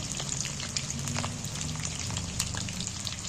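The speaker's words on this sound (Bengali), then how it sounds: "এবার আমি এই আলুগুলোকে ভালো করে ভেজে নেব।" Potatoes frying in oil for a chicken curry, an even crackling sizzle with dense popping spatters like light rain, steady and fairly soft throughout.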